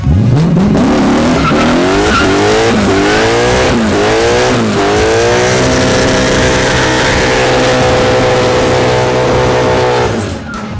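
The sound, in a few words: Mercedes car doing a burnout, tires squealing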